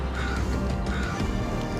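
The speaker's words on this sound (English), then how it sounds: "A lot of birds though." Birds call raucously outdoors, their harsh cawing cries layered over a steady windy background.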